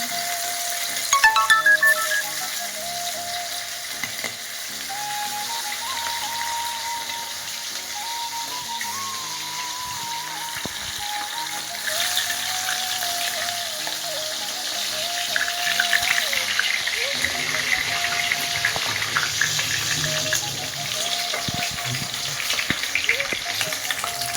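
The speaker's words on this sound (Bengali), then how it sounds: "মাছটাকে এবার ভেজে নেব, হালকা ভেজে নেব, বেশি কড়া ভাজবে না।" Fish sizzles and crackles continuously in a hot pan, a loud, dense frying hiss that holds steady for over twenty seconds, with faint clinks and a thin tonal whine running underneath.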